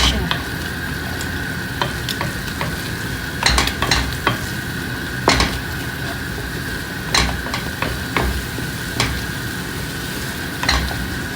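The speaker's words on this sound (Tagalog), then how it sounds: "Lagyan natin yung egg. Mix lang." Egg stirred and frying in a hot pan for a simple home-cooked dish, a steady sizzle running throughout with sharp scraping clicks of the utensil against the pan at irregular intervals.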